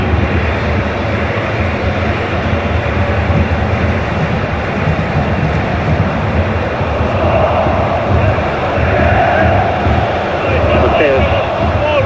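Football stadium crowd at a Saudi Pro League match, a continuous dense roar of many voices swelling slightly toward the end, loud and enveloping, with no clear break.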